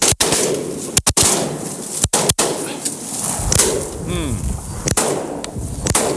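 Several sharp shotgun blasts go off nearby in quick bursts during a duck hunt on Prince Edward Island, Canada. Duck calls and ambient outdoor noise fill the gaps between the shots.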